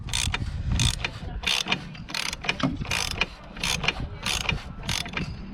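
Ratchet tightening the plastic oil filter housing on a Citroen C4 Grand Picasso, a rapid series of crisp clicking strokes in repeated bursts, close and clear, no talk.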